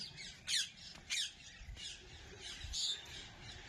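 Birds outdoors give repeated harsh squawking calls in several short bursts, fairly close against a soft background hiss, with no talking.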